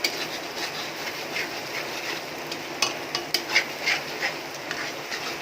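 Green chili and garlic frying in oil for chili oil, a steady soft sizzle with occasional stirring scrapes and a few sharper clinks near the end.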